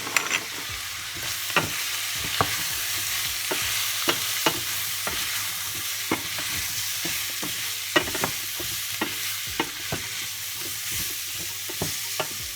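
Vegan mafé peanut sauce simmering in a pot gives a steady soft sizzle and bubbling, punctuated by sharp, irregular clicks and taps throughout, fairly quiet and close with no voices.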